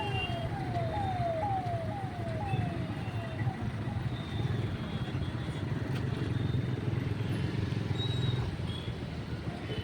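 A motorcycle carries two riders along a busy, traffic-jammed road from Sonarpur toward Kansapara, passing Dum Dum Airport. A steady, loud rush of engine and wind noise runs throughout, with a rising, siren-like whine early on.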